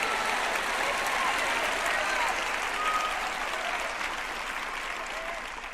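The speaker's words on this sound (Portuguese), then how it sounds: "Dê à senhora Parker uma grande salva de palmas." Sustained applause from a large audience fills the space, dense and steady, tapering slightly toward the end.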